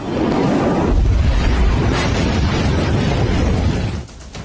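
A missile strike explosion rumbles in news footage as a loud, sustained, dense roar that stays heavy for several seconds before dropping away abruptly.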